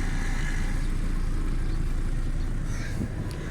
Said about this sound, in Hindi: पीछे से भी आपको मैं इसका इंजन का साउंड भी चेक करवाता हूँ।